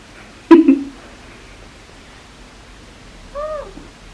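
A young kitten, about four or five months old, gives two short meows a few seconds apart: a sharp, fairly loud first call, then a softer, rising-and-falling mew against faint room noise.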